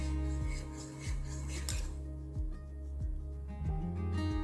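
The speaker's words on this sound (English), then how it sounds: "continuing to whisk as the butter melts and integrates with the yolks over low heat" Whisk scraping through egg yolks and melting butter in a pan over low heat, a rhythmic series of metallic strokes about twice a second over a low background hum.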